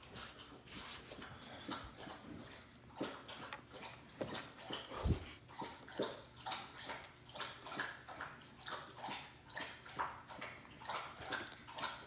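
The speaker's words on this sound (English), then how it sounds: "Probably hear my dog drinking." A dog laps water from a bowl with steady, repeating slurps at close range over a faint background, with no talking.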